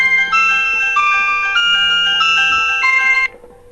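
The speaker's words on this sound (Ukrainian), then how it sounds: "Включимо музику." A Samsung GT-1200I mobile phone plays a bright, tinny polyphonic melody from its small speaker, steady and fairly loud for about three seconds before stopping abruptly, with no talking.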